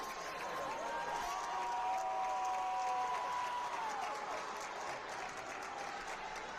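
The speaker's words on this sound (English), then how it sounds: "Hear the Hornet chants coming from that student section." Crowd in a high school basketball gym, with a steady wash of applause and cheering from the student section and some chanting mixed in, continuous and fairly loud throughout.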